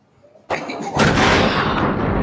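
A sudden loud explosion sound effect bursts in after a quiet moment, then swells into a heavy rumbling roar that holds and slowly fades.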